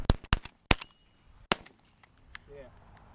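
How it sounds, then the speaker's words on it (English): Shotgun blasts during a pigeon hunt in Minnesota, a quick cluster of four sharp, loud cracks followed by a fainter shot, with quiet outdoor background and a brief voice afterward. "Just shoot him over top, sure."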